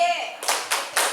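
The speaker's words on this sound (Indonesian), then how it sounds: "ya, tepuk kece." A group performs the tepuk kece clapping routine, three sharp, close clap bursts in quick rhythm following a brief voice.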